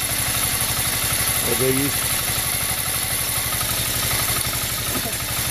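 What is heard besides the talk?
engine idling and rattling before plowing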